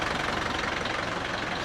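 A Tempo Traveller's engine idles steadily after fresh oil has been put in, giving a close, even, rumbling chug with no voices.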